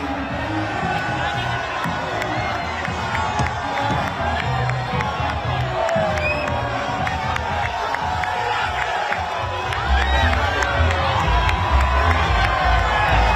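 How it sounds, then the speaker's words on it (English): A large crowd lines the streets at the Arsenal title parade, cheering and shouting in a steady, dense roar with high children's shouts and whoops mixed in, swelling louder toward the end. "If you have a look at the crowds, They are lining the streets"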